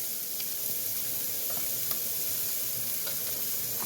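Chopped onions hit a pan of browned, drained ground meat for chili con carne, giving a steady close sizzle and frying hiss with light stirring throughout and no talk.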